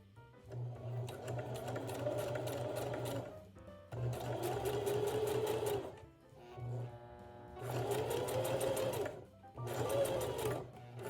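A sewing machine top stitching around the zippered center back of a dress runs in four steady whirring bursts separated by short pauses, close and fairly loud with no talking.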